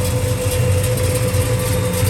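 A 1970 Chevrolet Chevelle V8 with a mild cam and 10.5:1 compression idles, a steady deep, loud rumble with a slightly lumpy pulsing rhythm, close by.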